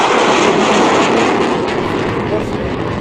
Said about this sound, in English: the Super Hornet high-speed pass